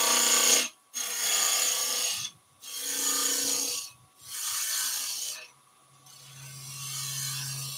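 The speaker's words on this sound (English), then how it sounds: "I'm going to drop the handle down and skim the edge." A bowl gouge held low like a skew skims the edge of a spinning wood bowl blank on a lathe, a German smoker project, giving a loud bright rasping cut in about four strokes separated by short pauses, with a lower hum on the last.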